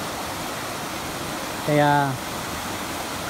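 Stream water near Embac Falls flows in a constant, even rush. A voice briefly speaks over it midway through.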